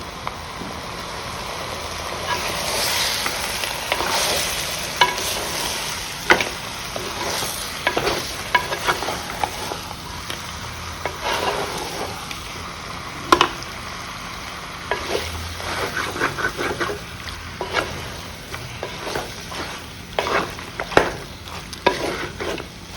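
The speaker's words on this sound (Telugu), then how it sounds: "ఇప్పుడు ఇందులో చికెన్ వేసేసుకుందాం. చికెన్ వేసేసాను." Chicken pieces fry and get stirred in a pot while making pot biryani, with a continuous sizzle under repeated scraping and clanking of a spoon against the vessel, close up and without speech.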